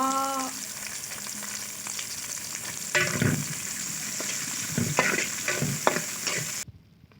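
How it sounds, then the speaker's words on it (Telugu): Chillies and tomato frying in a pan, a continuous sizzle broken by spatula stirring scrapes and clinks, ending abruptly in near silence. "బాగా వేయించుకోవాలి."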